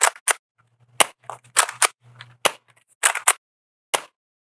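Shots from a Nerf Rival Roundhouse revolver-style foam ball blaster: a string of about eight sharp, loud pops in irregular bursts, with softer mechanical clicks and a low whirring between them.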